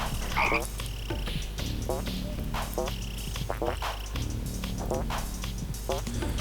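A chorus of frogs croaks in a forest cave in the game Nagz's Origin. Repeated ratcheting croaks come in quick bursts over a continuous low drone, close and fairly loud throughout.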